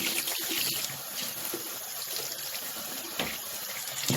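Water runs steadily from a household tap into a sink, a continuous close hiss and splash that holds at an even level with no talking.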